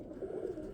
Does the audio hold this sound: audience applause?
no